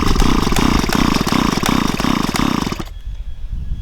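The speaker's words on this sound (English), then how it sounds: "Usually I pull the cord about 10 times in a row, give it a rest, then I do it 10 more times." A flooded STIHL chainsaw engine is cranked by its pull cord, giving a loud rapid mechanical chatter that pulses in even strokes for nearly three seconds before cutting off abruptly into near silence.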